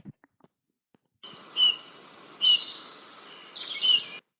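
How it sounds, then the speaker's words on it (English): Bullfinch song from a wild bird, a steady run of soft warbled notes with a few brighter whistled accents, fairly close and clear, with faint clicks before it starts. "Bullfinch."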